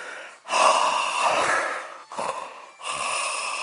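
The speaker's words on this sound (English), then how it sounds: "I'm just a heavy breather, and I hold this camera pretty close to my face so you can hear me" Heavy, loud breathing right against the microphone, long rasping breaths with brief pauses between them.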